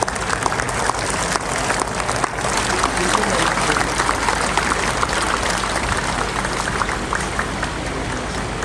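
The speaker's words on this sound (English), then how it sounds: "I request all the audience to welcome him with a huge round of applause." A school audience at the Little Flower School silver jubilee inauguration in Churu gives a long, sustained round of applause, a dense, even crackle of many hands that stays loud throughout.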